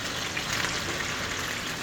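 Smoked bologna sizzling as it fries, a steady, even crackling hiss with no breaks, close and moderately loud, with no voices over it.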